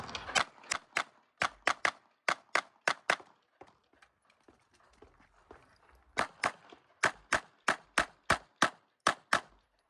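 Pistol shots ring out on a carry optics match stage at a local competition, rapid strings of sharp cracks in quick pairs and runs, pausing briefly between target arrays, heard from a distance.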